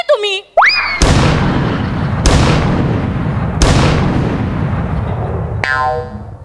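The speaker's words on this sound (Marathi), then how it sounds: "या पंचला त्याने 3 तोफांची सलामी दिली बघ." Three loud, booming cannon shots are spaced about a second apart in a sound-effect salute for a comedy sketch, each with a long rumbling tail, framed by brief cartoonish whooshing effects at the start and end.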